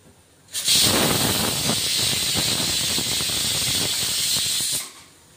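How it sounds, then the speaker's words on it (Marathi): Masala sizzles in a pan over a low gas flame, a steady loud hiss that starts abruptly, holds evenly for about four seconds with faint crackles, then cuts off. "स्लो गॅसवर मसाला शिजू द्यायचा आपण"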